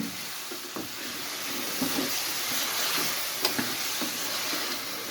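Goat intestines (ojri) frying in a kadhai, a steady close hiss and sizzle of hot oil with a few soft clicks and stirring taps, and no voices.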